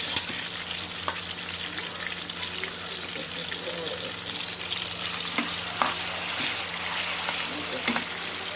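Two chicken leg pieces fry in oil on a low flame, giving a steady, even sizzle with scattered small pops and crackles throughout.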